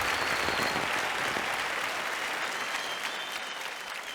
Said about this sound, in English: Huge round of applause to Anshul.